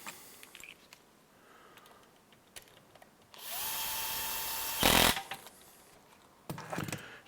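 A power driver tightens a nut while building an HPI Baja 5SC model, a steady close whir lasting a second and a half that ends in a brief, louder burst, with scattered small clicks and handling noises before and after.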